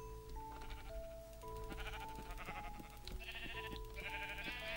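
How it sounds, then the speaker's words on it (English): Sheep in the Minecraft video game bleat several times in quick succession, loud and close, over steady tonal background music, with no talking. "we want to go kill these sheep now"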